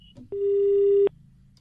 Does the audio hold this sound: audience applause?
no